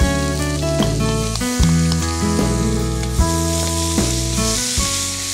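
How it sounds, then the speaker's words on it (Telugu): Pineapple pieces go into hot tempering oil in a pan and sizzle steadily and fairly loudly, with occasional soft stirring bumps and no talking. "మెయిన్ ఈ పోపులోనే మనము పైనాపిల్ ముక్కలు వేసేసుకుందాం."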